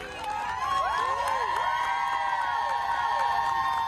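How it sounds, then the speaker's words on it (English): Medical staff cheer and whoop loudly for a 7th-grade girl being discharged from the hospital nearly two months after a school shooting, with a steady crowd roar and excited shouts throughout. "Watch as medical staff cheer on 7th grader Sophia Forkis"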